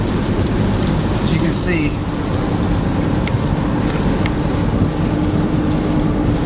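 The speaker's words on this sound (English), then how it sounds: "It's raining, so I don't know how it's going to pan out." Steady rain falling outdoors on a wooded ridge, a constant dense hiss close to the microphone, with a voice speaking briefly over it.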